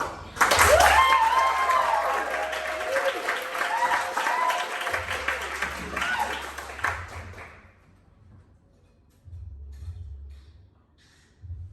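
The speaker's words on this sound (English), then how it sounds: "Let's have another round of applause." An audience applauds loudly with some cheering, a dense wash of clapping that gradually thins out and fades to near silence.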